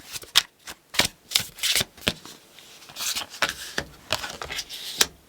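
A tarot deck being cut and shuffled by hand: a quick, close series of crisp riffling bursts and card slaps in an irregular rhythm, with quiet pauses between.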